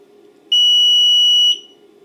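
An intruder alarm sounder on a teardown bench gives a single piercing electronic tone lasting about one second, starting and stopping abruptly over a faint low hum.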